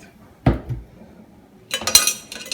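A utensil clatters against a pot holding Jamaican gungo peas and saltfish stew with coconut milk: one knock early on, then a short scraping, clinking stir near the end.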